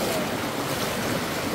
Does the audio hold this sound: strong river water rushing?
yes